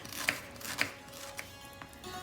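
Knife slicing plantain into thin pieces on a board, a few sharp close cuts spaced about half a second apart over a soft background hum, no voices.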